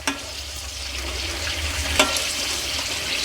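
Potato-stuffed mirchi bajji fry in hot oil with a steady close sizzle and bubbling, broken by one sharp click partway through.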